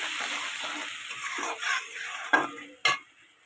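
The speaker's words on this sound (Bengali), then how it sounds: "একটু সুন্দর করে এটা ভেজে নেব তাহলে মশলার গন্ধটা বেরোবে না" Turmeric and ground cumin frying in hot oil with shrimp and vegetables, a steady close sizzle with scraping stirs and a couple of sharp utensil knocks against the pan near the end.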